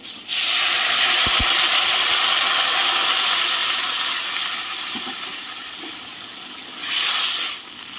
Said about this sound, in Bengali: ভেজিটা ভাজা হয়েছে দিয়ে দেবো জল